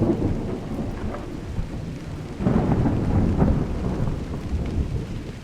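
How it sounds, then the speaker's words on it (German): A thunderstorm in the video game Drizzlepath: steady rain patters throughout while low thunder rumbles and swells in the middle, fairly loud and close, with no voices. "es gewittert hier immer noch vor sich hin."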